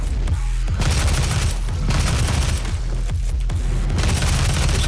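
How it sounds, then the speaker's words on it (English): Rapid, continuous assault rifle fire from the DOOM video game, loud and close, with dense repeated booming shots running through the whole stretch and only brief gaps. "This assault rifle freaking rocks."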